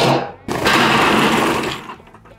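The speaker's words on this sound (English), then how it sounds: "So let's load some charcoal in this beauty and get it lit." Coconut shell charcoal briquettes tumble into a Big Green Egg grill, a dense rattling, crunching pour that surges loudly after a brief lull and then tapers off into a few scattered clinks.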